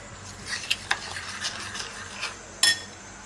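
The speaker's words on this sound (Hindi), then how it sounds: "अच्छे से हमें मिक्स करना है ताकि कोई लम्स वगैरह ना रहे।" Cupcake batter is beaten in a bowl for an oven-free recipe, with quiet scraping strokes and a few sharp clinks of utensil against the bowl, the loudest near the end, close and without talk.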